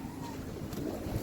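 Wind blows steadily outdoors, a constant low buffeting rush against the microphone with brief gusts, fairly faint throughout.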